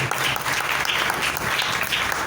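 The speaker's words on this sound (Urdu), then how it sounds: "ذرا خدا پاک روح کے لیے زوردار تالیاں بجائیں سب کے ساتھ" A church congregation applauds during a sermon, loud, dense clapping from many hands that carries on steadily without a break.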